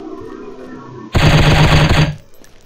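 In the shooting video game Striker, a sudden loud burst of rapid automatic gunfire lasts about a second, then cuts off abruptly, leaving quieter game ambience.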